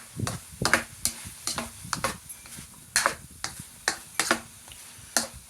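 A spoon stirs and scrapes broccoli and mushrooms in a hot pan for a stir-fry, a run of irregular sharp clacks and scrapes over a faint background sizzle, close and fairly quiet.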